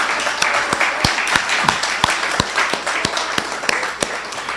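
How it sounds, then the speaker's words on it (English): A small audience claps together at a book launch for Dr. Edwin Duroy, producing steady, moderately loud applause with sharp individual claps standing out through the wash of sound; no one speaks. "So let's just give a big applause for finishing what you started."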